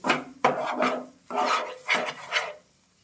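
A ghee mixture is stirred in a pan over low heat, giving repeated scraping, rasping strokes in uneven bursts, close and fairly clear with no talk.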